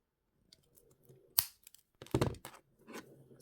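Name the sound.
cutting jewellery wire for pumpkin pendant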